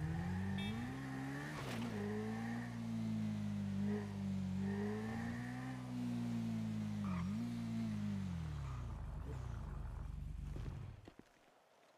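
A motorcycle engine in the GTA video game drones steadily and loud, its pitch wavering up and down as it revs through turns, then cuts off abruptly near the end.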